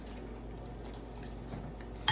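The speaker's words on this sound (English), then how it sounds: "I'm going to close this up again, and I'm going to mix it all together" A utensil stirs and mixes ingredients for chicken fried rice in a pan or container, giving soft scraping and light clinks that build to a sharper knock at the end.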